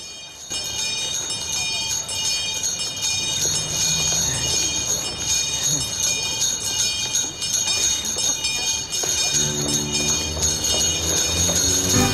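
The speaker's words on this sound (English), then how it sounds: "the weirdness continues as Ralphie and this other guy get into a bell-off" Bells rung back and forth in a bell-off scene from the film A Christmas Story 2, steady bright metallic ringing running throughout under a busy musical background, loud and continuous.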